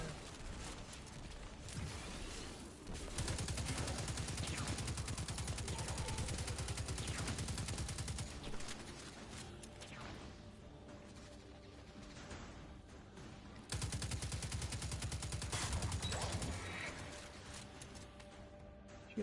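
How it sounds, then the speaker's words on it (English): Laser weapons firing in Destiny 2, rapid bursts of crackling shots in two long volleys separated by a quieter stretch, loud and close with no talk. "Shooting lasers."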